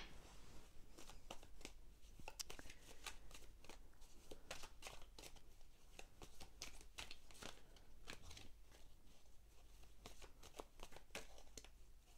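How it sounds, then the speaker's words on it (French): Osho Zen Tarot cards are shuffled for a reading, making quiet, fast papery riffles and crackles that continue without a break. "aujourd'hui on va faire un tirage journalier de cette journée de fin septembre"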